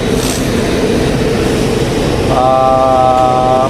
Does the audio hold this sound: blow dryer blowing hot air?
no